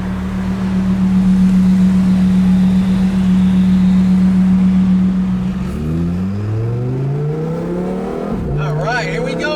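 A Lamborghini Huracan Performante Spyder engine holds a loud steady idle drone, then revs up and down in rising and falling sweeps, close and powerful.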